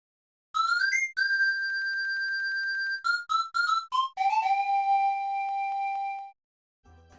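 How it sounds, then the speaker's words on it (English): A solo pan flute from the Mario Kart 64 video game plays a breathy, thin, high melody of sustained and short notes, clean and isolated with nothing else behind it. "Listen to the isolated pan flute from Mario Kart 64."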